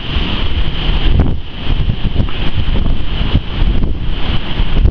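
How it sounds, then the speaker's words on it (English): Strong, freezing wind batters a microphone on the Lake Huron shore during a snow squall, producing a loud, continuous roaring rumble with gusty surges and no speech. "It is blowing so hard, it is unbelievable, and it is freezing cold."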